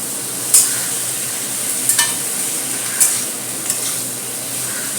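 Spices, ginger paste, green chillies and boiled potatoes fry in a pan with a steady soft sizzle. A spatula scrapes and taps against the pan every second or so, and no one speaks.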